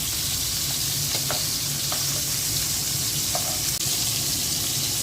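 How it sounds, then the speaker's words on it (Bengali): Aair fish fries in hot oil with a dense, steady sizzle and a few faint clicks of utensils. The sound is close and continuous throughout, with no talking. "মাছটা হালকা করে ভেজে নেব"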